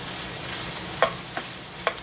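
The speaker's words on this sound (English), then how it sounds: "I'm browning the" Meat browning in a frying pan for a Filipino bitter melon sauté: a steady, even sizzle with a few sharp scrapes and clicks as it is stirred, and no voices.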